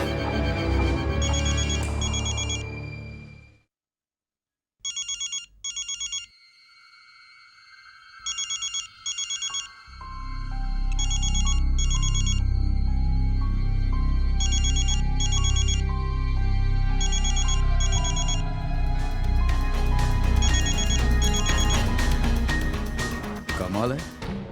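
Telephone left unanswered, its electronic ringtone repeating in regular bursts with pauses between, loud and close, while voices speak and music rises underneath.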